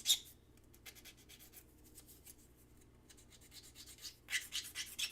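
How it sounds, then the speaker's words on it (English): Faint, uneven scratchy rubbing strokes of sanding metal wire ends together, quiet and close, growing busier and louder toward the end. "And I'm sanding them together."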